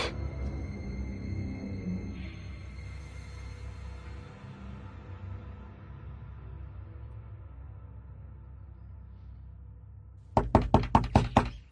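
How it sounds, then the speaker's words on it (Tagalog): A low rumbling ambience fades slowly, then a loud burst of about six rapid, sharp knocks or bangs on a door lands abruptly near the end, close by and alone. "Hoy Miriam, tignan mo nga kung sino yung nangangalampag na yun ng pintuan."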